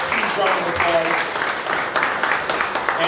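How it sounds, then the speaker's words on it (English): Conference audience giving a round of applause, continuous clapping blended with a speaker's voice carrying over it throughout. "So well put together, a huge round of applause."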